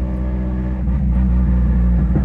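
A Honda Civic Si with a forged engine drives along a coastal avenue, its low, droning engine note rumbling steadily from inside the car with a slight rise in pitch, loud and close.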